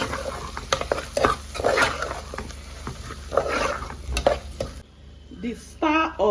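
Garden egg being stirred into abacha African salad, a Nigerian dish: wet, patting mixing strokes and light scraping in a bowl, close and fairly busy, with a brief quiet spell and a clink near the end.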